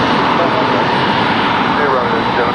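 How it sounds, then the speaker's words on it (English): American Airlines Boeing 737-800 arriving from Miami at Raleigh-Durham, a loud steady jet engine roar that holds constant across the whole stretch, close and full-bodied. "737-800 coming in from Miami."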